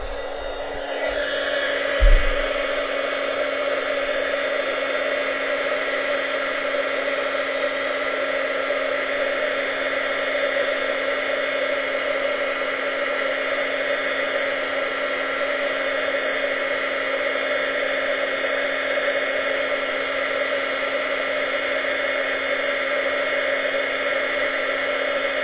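A heat gun melts embossing powder on a handmade card with a steady, loud, unbroken blowing whir that runs for the whole stretch after a brief bump at the start.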